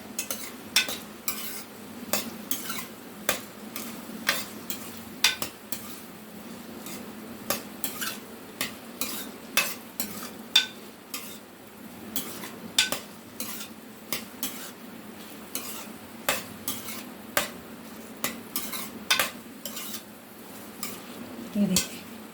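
Okra and onions with spices cook in a pan, a low sizzle beneath regular scraping strokes of a spoon stirring the mix, close and fairly steady throughout.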